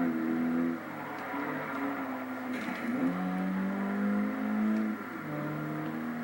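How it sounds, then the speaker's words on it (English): Stock 2005 Mini Cooper S with a six-speed manual accelerating at full throttle on a highway, engine note climbing in pitch, dipping briefly at gear changes, then climbing again, heard from inside the car. "we're going to take it on the highway and full throttle run it"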